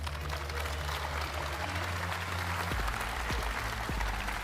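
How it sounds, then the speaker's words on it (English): Sustained applause from an audience, steady clapping throughout without any speech. "Please give him a big round of applause."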